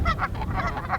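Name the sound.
migrating birds, geese honking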